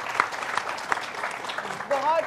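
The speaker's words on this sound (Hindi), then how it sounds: "मुबारक हो, बहुत सारी तालियां तीनों के लिए।" A studio audience on a Ramadan iftar television show claps for three finalists in scattered, moderately loud applause, and a voice speaks near the end.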